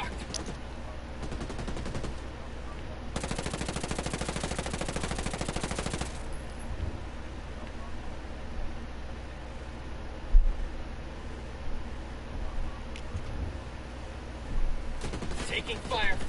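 Gunfire in a PS4 video game: sustained bursts of rapid automatic fire, loudest in a dense stretch early on, then quieter scattered shots and a distant thud, with a voice talking at times.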